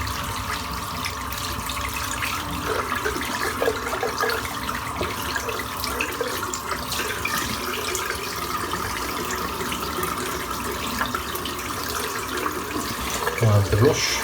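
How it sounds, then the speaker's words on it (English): Shaving soap is rinsed under a running tap, a steady close water rush and splatter that continues throughout with a slight rise near the end. "I'm going to rinse it off the soap."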